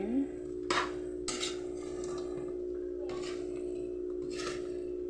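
A metal utensil scrapes and clinks against a pot in a few brief strokes while chicken feet adobo is stirred, close and fairly quiet over a steady kitchen hum.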